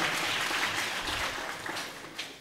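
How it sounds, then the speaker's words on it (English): An audience claps steadily at a local government college graduation ceremony in Hombolo, dense applause filling the whole moment at a moderate distance. "Clap your hands for Mariam"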